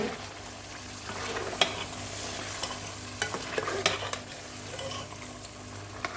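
Beef and peas sizzle in a pot as a spoon stirs the curry, with soft scraping taps against the metal over a steady low frying hiss, close and fairly quiet.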